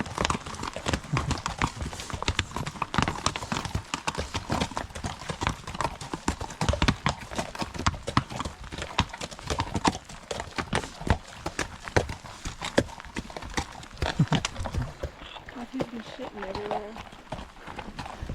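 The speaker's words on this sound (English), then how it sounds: "She finally seen the horses." Horses walk along a hiking trail on the way up Little Beehive, their hooves clip-clopping in a steady irregular patter near by, with voices talking over them and a brief whinny-like sound near the end.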